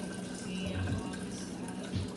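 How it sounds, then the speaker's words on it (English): Fruity iced tea being poured from a container with a big opening, splashing and spilling as it goes; a steady watery pour with a few heavier splashes, close and moderately loud. "because I can't seem to pour without spilling"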